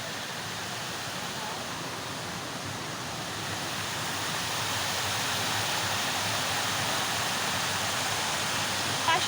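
A park waterfall at Kachi Jhuli Park in Mymensingh pours in a steady, dense broadband rush that swells slightly partway through and holds without pause, with no speech heard.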